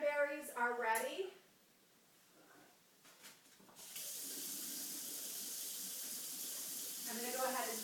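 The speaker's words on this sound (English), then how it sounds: "I'm going to go ahead and drain them." Cooked cranberries drained in a sink: after a person talks, water runs steadily from the tap with a broad hiss, and the talking resumes over the flow near the end.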